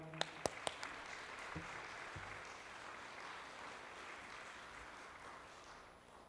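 A congregation at a church worship service claps to welcome the pastor to the pulpit, a soft, distant applause after a few sharp knocks at the start.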